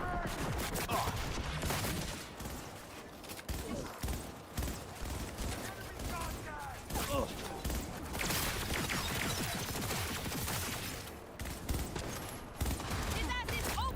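Sustained gunfire rattles through a Cyberpunk video game firefight in a hallway, dense bursts and shots running nearly nonstop at close range, with shouted voices and game sounds layered over the shooting.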